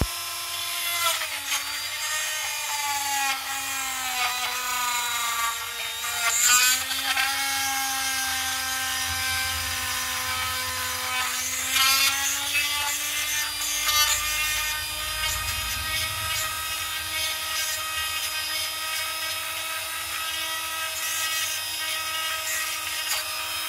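A CNC router spindle whines steadily with a sustained tonal hum and shifting harmonics, cutting continuously throughout at a constant, moderately loud level with no talk.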